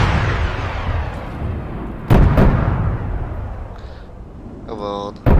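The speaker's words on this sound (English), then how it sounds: "Oh wait, I'm getting shot at." Distant gunfire in Arma 3 Warlords: a few sharp shots crack out at intervals over steady battlefield rumble, followed by a short burst near the end, with no talk.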